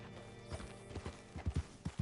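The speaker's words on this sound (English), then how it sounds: "Hitch your horse up here." Horse hooves clip-clopping in the Western video game Red Dead Redemption 2, a faint, irregular series of soft thuds as a horse walks slowly, with a steady quiet background.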